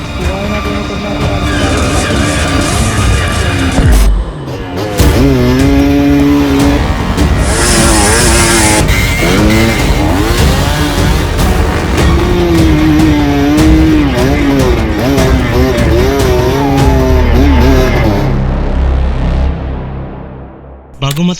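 Dirt bike engine revving hard along a rough hard-enduro trail, loud and close, the pitch climbing and dropping in repeated throttle bursts with a brief pause partway through.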